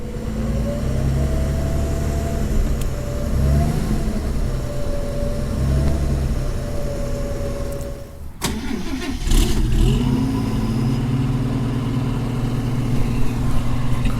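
A 1954 Chevrolet Bel-Air engine runs on a cold start, idling smoothly and close up with a couple of gentle rev swells and a brief stumble midway before settling back into a steady purr.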